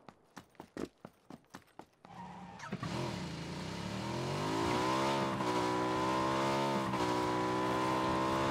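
A vehicle in the shooter game PUBG starts with sharp rhythmic clicks, then its engine rumbles up and holds a loud, steady revving drone with shifting pitch, alone without talk.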